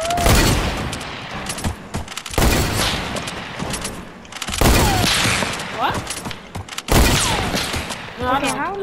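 Video game gunshots come in heavy repeated bursts with loud booming blasts separated by brief pauses, and voices talk over the action.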